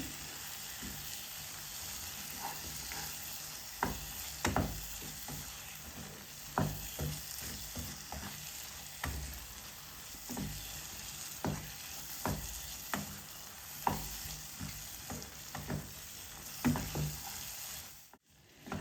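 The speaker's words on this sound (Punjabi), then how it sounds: "ਹੁਣ ਇਸ ਨੂੰ ਆਪਾਂ 2-3 ਮਿੰਟ ਲਈ ਭੁੰਨ ਲਵਾਂਗੇ" Green peas roasting in masala in a pan: a continuous close sizzle punctuated by regular spatula scrapes and clacks roughly every second, with no talking, ending abruptly.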